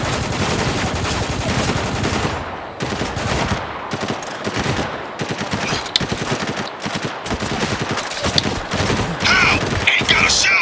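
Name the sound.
gunfire in video game Spec Ops The Line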